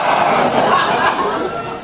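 Men in a comedy club audience roar like a lion, voices imitating the animal in a loud, rough group bellow that holds steady and then tapers off.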